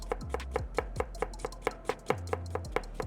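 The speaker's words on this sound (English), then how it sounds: "we're gonna follow the curvature of the onion and just slice" Knife slicing a white or yellow onion into fine julienne on a cutting board, a steady run of about fourteen crisp, evenly spaced chops close up, with no talking.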